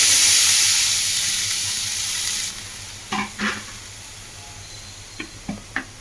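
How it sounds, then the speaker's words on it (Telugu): Cut tomato pieces dropped into hot oil in a kadai for coconut chutney burst into a loud hissing sizzle that slowly fades, followed by several short scraping stirs. Nobody speaks. "అదే కడాయిలో ఈ కట్ చేసి పెట్టుకున్న టమాటా ముక్కలు కూడా వేసేసేయండి"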